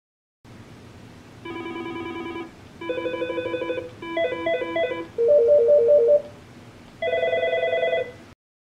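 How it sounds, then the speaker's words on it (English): A Mitel 6755i/6757i desk phone plays a series of short ringtone samples one after another, each a different electronic melody or trill, separated by brief pauses, clear and close. "I'll use the up and down arrow keys to cycle through the different ringtones that are available."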